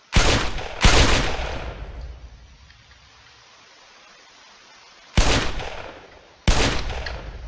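Loud bursts of gunfire in a Roblox video game: two rapid volleys close together, a pause, then two more bursts, each sharp and crackling with a short decaying tail.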